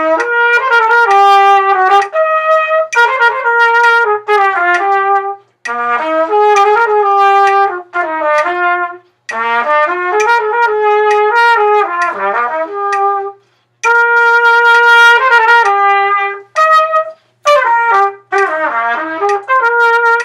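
Solo trumpet performing the 2019 Alabama All-State etude, a clear melodic line of separate phrases with short breathing gaps between them, played loud and up close with no talking.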